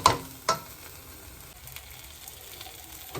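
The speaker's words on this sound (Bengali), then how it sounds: "আমি কন্টিনিউ নেড়ে এটা চালের সাথে ভালো করে মিশিয়ে ভাজা করে নেব" Steady sizzling of rice frying with spices in a pan, with a couple of sharp scraping knocks as it is stirred.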